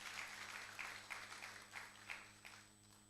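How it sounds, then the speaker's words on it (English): Light, faint applause from a small audience at a university innovation week award ceremony, scattered claps pulsing irregularly over a low electrical hum. "Please clap for them as they receive the award."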